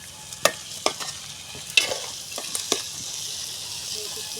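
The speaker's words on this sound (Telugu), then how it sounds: "బాగా అయితే తిప్పేసుకున్నాం. కారం అయితే వేసేసుకుందాము ఇప్పుడైతేనే." Dried fish curry with chilli powder is stirred and frying in a pan, giving several sharp scrapes and clinks of a spoon over a steady low sizzle, close and fairly quiet.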